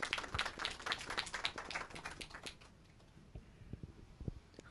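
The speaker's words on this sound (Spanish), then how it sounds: "Un aplauso para ella, por favor." Audience applause at a security conference, a dense burst of clapping for the first few seconds that thins out to a few scattered claps.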